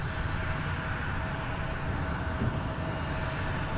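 An airliner takes off from Minneapolis–Saint Paul airport, its engines making a steady, broad roar that holds level throughout, with no talk over it.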